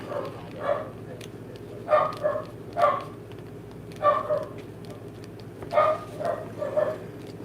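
Henry the dog barks in short clustered bursts, two or three barks each, repeating every couple of seconds from somewhere off in the house, fairly faint over a steady low hum.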